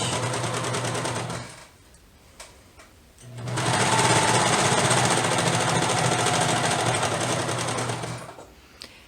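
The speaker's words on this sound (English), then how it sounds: "I've gone all the way around with the serger" A serger sewing machine stitches around the edge of a fleece blanket, a loud rapid mechanical whirring that stops briefly, then restarts and runs steadily before halting, close up and with no speech.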